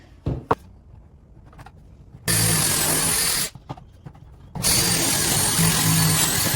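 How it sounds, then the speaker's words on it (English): A power drill bores pocket holes through a pocket hole jig while building a custom bathroom medicine cabinet, in two sustained bursts separated by a short pause, close and loud against a quiet room. "Right, so I'm just going to use my pocket hole jig."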